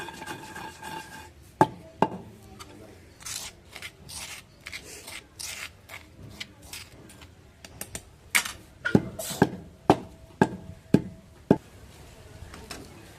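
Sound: pounding gongura chutney with salt in a stone mortar

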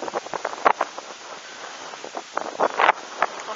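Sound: strong wind gusts

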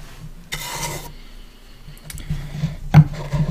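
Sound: brush rubbed on a wooden box

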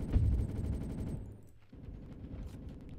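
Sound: gunfire in a Roblox video game

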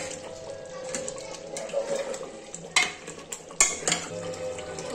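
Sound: mutton being roasted and stirred in a pot

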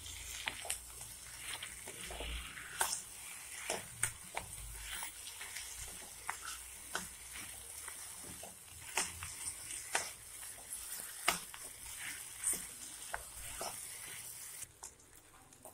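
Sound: frying and mixing mashed potato with fried onions

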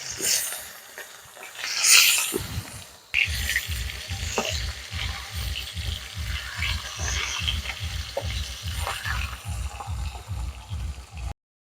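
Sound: rohu fish frying in mustard oil

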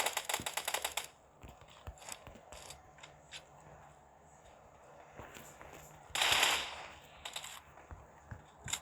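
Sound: gunfire in the video game PUBG Mobile

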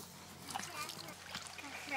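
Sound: splashing water as people enter a swimming pool

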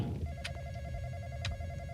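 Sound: phone ringing in Roblox video game

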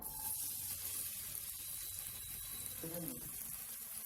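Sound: onion slices frying in oil in a pan

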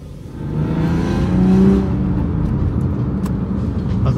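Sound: Lexus IS200 engine revving while driving

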